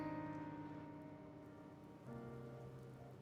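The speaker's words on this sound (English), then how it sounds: "Oh, it's raining outside." Steady rain falling outdoors in the Blue Reflection video game, a continuous soft hiss of drops on surfaces with faint game music tones running underneath, no voices.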